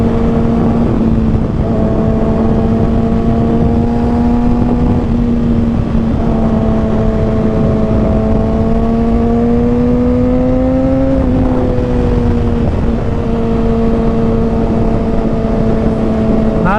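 A Kawasaki ZX6R KRT sport motorcycle engine drones steadily while riding along a Wisconsin road, its pitch holding, then climbing and dropping back, over constant loud wind rush.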